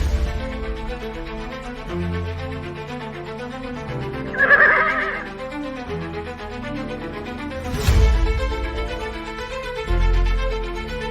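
A horse whinnies clearly at mid-distance over a low, rumbling music-like background bed, and a second, sharper burst follows a few seconds later. There is no talking.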